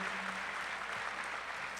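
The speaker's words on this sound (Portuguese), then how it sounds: "Eu queria que você aplaudisse o Senhor por essa igreja" A church congregation claps together in a brief, dense burst of applause, steady and fairly loud with no voices standing out.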